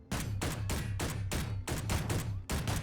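Rapid bursts of weapon fire strike a target dummy in the game Space Engineers, about nine loud, sharp reports in an even, quick rhythm with no talk.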